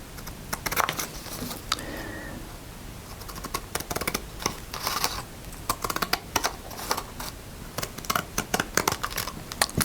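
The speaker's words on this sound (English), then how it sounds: "I'm going to just take a pair of scissors and cut around that" Scissors snip around a die-cut paper piece in a mixed-media craft session, a quick run of close, crisp cuts and papery rustles in irregular bursts.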